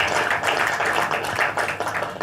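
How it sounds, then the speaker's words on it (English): Audience applause for the president at a government and private sector gathering on small business growth, a brief steady burst of many hands clapping filling the room. "Please, that deserves a round of applause for our president"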